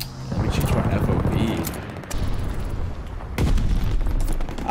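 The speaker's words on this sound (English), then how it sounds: "Friendly sending an airstrike" Heavy booms and rumbling blasts from an airstrike in Call of Duty: Vanguard, rolling in waves with brief gaps, loud and close amid gunfire.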